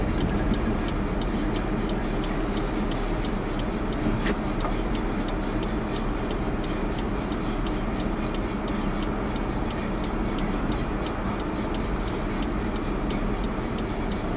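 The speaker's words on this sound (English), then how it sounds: "Idle's nice and low. Choke hasn't kicked back on." A GMC square-body rollback truck idles low and steady at a body shop, a continuous rumble with a regular light ticking running through it the whole time, no talk.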